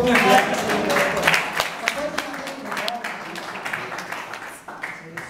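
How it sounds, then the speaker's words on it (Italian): Audience at a Brazilian music and poetry concert applauding, scattered clapping mixed with voices that thins and fades toward the end. "Un grande applauso per Roberto."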